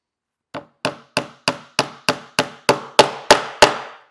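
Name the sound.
hammering a nail into wood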